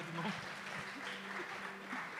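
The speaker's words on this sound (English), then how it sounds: "Big applause for our pitchers tonight." An audience at a Christmas-edition pitching event claps for the evening's pitchers, a dense, even wash of applause throughout, with a voice speaking over it.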